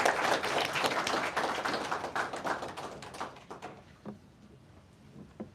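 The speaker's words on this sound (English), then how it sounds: "big round of applause for all the speakers" Applause rings out from an event audience honouring a panel of speakers, dense and close at first, then thinning and fading out over a few seconds until only a few scattered taps remain in a quiet room.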